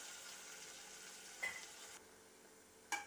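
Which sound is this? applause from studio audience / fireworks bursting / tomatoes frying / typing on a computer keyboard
tomatoes frying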